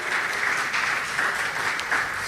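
A church congregation claps steadily and loudly, a dense wash of applause sustained throughout with no pauses.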